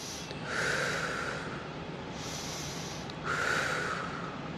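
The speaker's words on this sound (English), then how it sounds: "breathing through the nose and out your mouth" An exerciser doing an upper-body pole and dance conditioning workout at home breathes steadily, with two long, loud breaths close by: air drawn in through the nose, then pushed out through the mouth, with no speech.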